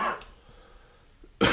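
A person clears their throat twice with short rough bursts, one at the start and a louder one at the end, separated by near silence in a quiet room.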